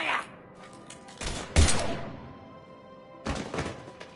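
Gunfire in the video game Mass Effect 3: a few loud bursts of shots and impacts at the start and around the middle, then a fading rumble and another burst near the end, with game ambience between.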